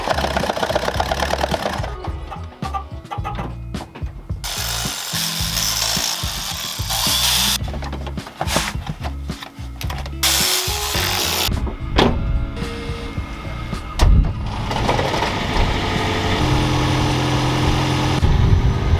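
A high-mileage Toyota Prius engine, with Seafoam cleaner in its cylinders, cranks over in loud, choppy mechanical bursts with gaps between them, then catches and runs in a steady rough drone.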